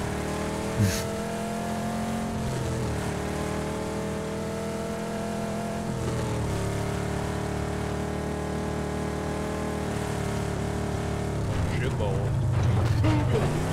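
A car engine in a video game hums steadily with rising and falling harmonic tones, revving up in a couple of swells, loud and close, while people chatter over it.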